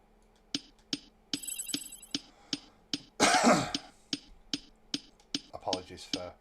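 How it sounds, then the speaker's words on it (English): A person coughs once in a harsh, loud burst near the middle, set against a steady series of regular clicking ticks from the Astro Colony space survival game. "Apologies for coughing."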